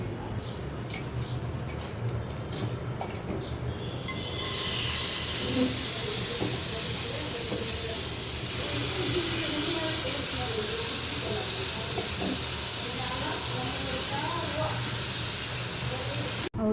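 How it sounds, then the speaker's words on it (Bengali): Chicken mixed with herbs and a little oil starts frying in a pan, a sudden rise into a steady loud hiss and sizzle with faint crackles that keeps going. "এখন মিক্স করে নিয়ে এটা আমি ভাজতে দিব"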